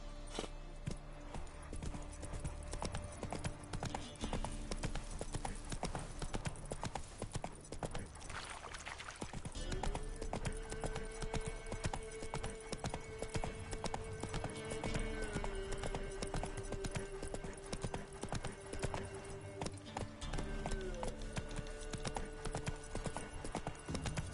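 Hooves clatter in a steady clip-clop as a horse gallops in The Witcher 3 video game, a continuous rhythmic beat under game music and ambience, with no speech.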